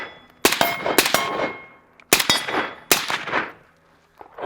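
A PTR 32 rifle fires at targets in a sharp, loud string of shots: three quick reports, a pause, then two more, each trailing off with a ringing echo, no voices.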